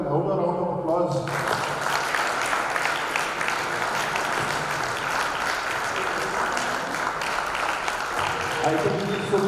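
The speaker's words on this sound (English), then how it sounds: "I think that requires a louder round of applause." An audience at a Rotary Club installation ceremony breaks into sustained applause that fills the room evenly, starting after a voice speaks and running steadily to the end with slight talk near the close.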